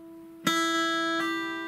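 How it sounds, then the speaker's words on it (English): A single plucked guitar note rings out, then shifts to a higher pitch without a second pick, sustaining cleanly and fading slightly. "So that's a hammer-on."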